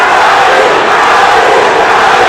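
A large boxing arena crowd roars continuously and loudly, a dense wall of massed voices that could be chanting the name Manny for a Filipino fighter, with no single speaker standing out.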